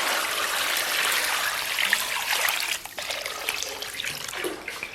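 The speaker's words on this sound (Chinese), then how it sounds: "然后咱们给锅里边稍微来点水" Water pours steadily into a cooking pot for a pork belly braise, a close, full splashing rush that barely changes before easing slightly near the end.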